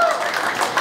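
Wedding guests at a restaurant celebration in Krasnoyarsk applaud in a brief, dense burst of clapping from a crowd.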